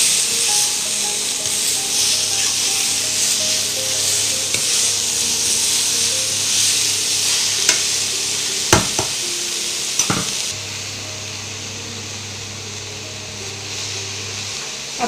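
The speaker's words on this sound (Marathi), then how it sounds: "व टोमॅटो केचप घालून थोडा वेळ चांगलं परतून घेणार आहोत" Vegetables stir-fry with tomato ketchup in a pan for a veg pizza topping, giving a loud continuous sizzle with a few sharp scraping stirs in the middle. The hiss thins out slightly toward the end.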